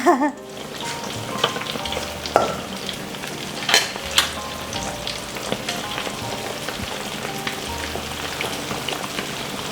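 Salted chicken wings deep-fry in a pot of oil, bubbling and sizzling in a continuous crackle, with occasional sharper pops and clinks of a utensil scraping the pieces apart near the start and middle.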